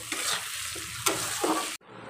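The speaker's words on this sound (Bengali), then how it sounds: "তো দেখো, পেঁয়াজগুলো হালকা ভাজা হয়ে গেছে" Onions fry in oil with curry leaves, a close, lively sizzle broken by scraping stirs, ending abruptly, with no voices.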